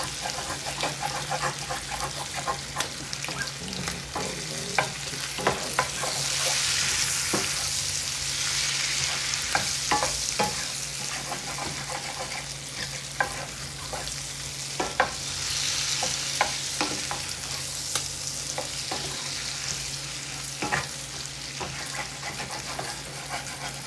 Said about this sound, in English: that at least helps to scrape these bits off the pan